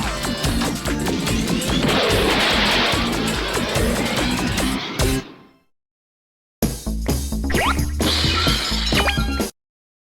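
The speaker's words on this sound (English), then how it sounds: "Why is that glass breaking sound so fucking funny every single time?" Glass shattering in the Jumping Flash! video game, crunchy crashing bursts layered over game music and effects, cutting to silence midway before another clattering smash.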